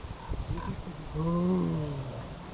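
An angry tiger lets out a long, loud growling roar that rises and holds before fading, heard close over steady outdoor background noise, with no talking.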